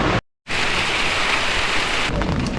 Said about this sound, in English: So the rain hasn't gone off.